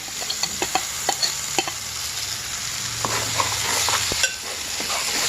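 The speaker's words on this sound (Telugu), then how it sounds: "ఈ వెన్న వేసాము కాబట్టి వెన్న నెయ్యిలో ఉడుకుతుంది" Mushroom masala gravy cooking in butter in a pan over low flame, a soft continuous sizzle punctuated by repeated clicks and scrapes of a spoon stirring, close and without talk.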